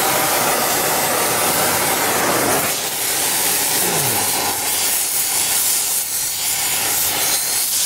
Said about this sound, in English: All right, so I'm going to fire off the torch.